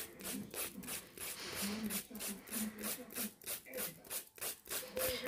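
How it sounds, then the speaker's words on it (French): A hand file rasps in quick, regular back-and-forth strokes while finishing artificial nails, soft and close, with faint tonal background sounds between strokes. "vous fignolez à la lime"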